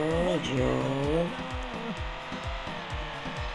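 A car engine in a mobile racing game revs in repeated upward sweeps, each ending in a gear-shift drop, with tire noise and game audio throughout, loud and close.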